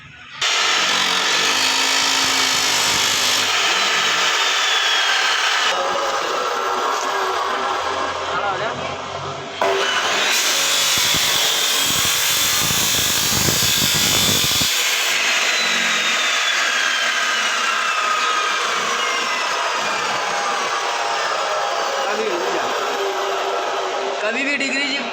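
A power cutter slices through a pipe at a 45-degree angle, making a loud, continuous grinding whine that holds steady for the whole stretch with only a brief dip partway through.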